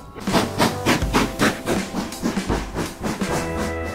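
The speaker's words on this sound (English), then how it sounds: "We actually managed to catch the steam train." A steam train passes nearby in Scotland, with a rhythmic series of loud chugging bursts and hissing puffs repeating at a regular beat, mixed with low rumbling.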